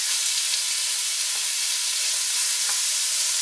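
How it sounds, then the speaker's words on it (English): Wild turkey pieces sizzle in melted butter in a pan while being stirred, a loud, continuous bright hiss with faint scraping knocks now and then. "we're going to add in our turkey. Just move it around, get that butter all in there"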